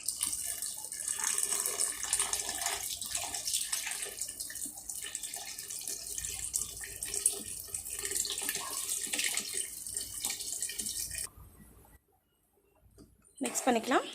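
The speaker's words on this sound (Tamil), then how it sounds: "தேவையான அளவு தண்ணி ஊற்றிக்கலாம்." Water pours steadily into a pot with a splashy rush, stopping briefly before resuming; a voice can be heard faintly beneath the pouring.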